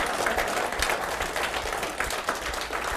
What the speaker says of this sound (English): Keep on clapping them.